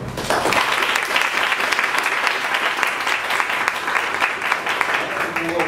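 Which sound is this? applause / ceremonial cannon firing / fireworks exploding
applause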